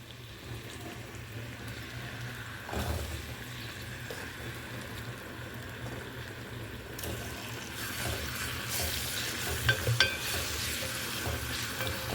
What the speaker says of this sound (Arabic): معلقه توم كبيره، وهنحمرها